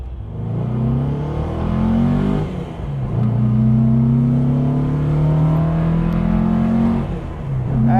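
1959 Porsche 356A Convertible D pulling hard through the gears, its engine revving up in two strong accelerating pulls with a shift between, close and loud from inside the car.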